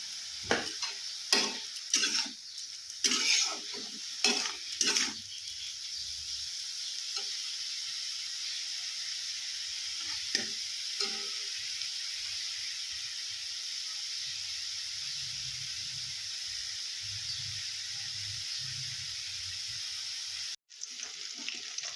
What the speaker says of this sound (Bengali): এদিকে আমি রসুন দিয়ে কাঁচা লঙ্কা দিয়ে ভেতর শাকটা ভাজা করে নিচ্ছি